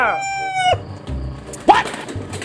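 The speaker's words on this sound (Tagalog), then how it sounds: "Ayan yung manok." A native chicken rooster crows once, a loud, drawn-out call that breaks off sharply, followed by a short squawk and some rustling nearby.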